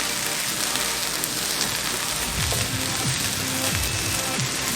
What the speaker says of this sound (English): And I am going to add in my egg and scramble it.